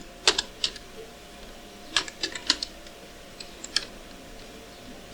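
Sparse, crisp clicks from a computer keyboard as keys and a Control+Enter combination are pressed, a few quick taps in small clusters separated by pauses over a faint background hum.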